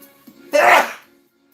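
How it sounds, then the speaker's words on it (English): One loud, explosive sneeze bursts out after a short intake of breath, close and sharp, then quickly fades to quiet. "that must be grandma sneeze"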